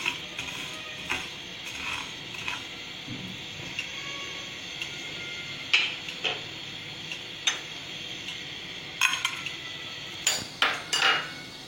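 Coriander seeds are stirred in a heated pan, producing intermittent metallic scrapes and light clinks spaced a second or two apart, fairly faint and close, over a quiet background hiss with no talking.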